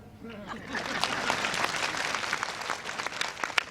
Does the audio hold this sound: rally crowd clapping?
yes